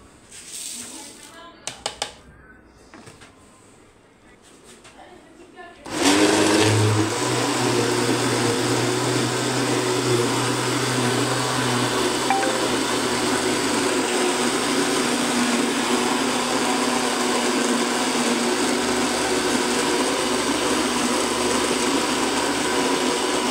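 Kitchen blender grinding mango with a glass of milk into a shake, starting abruptly after a few faint clicks and handling sounds, then running as a loud, steady whirring drone to the end.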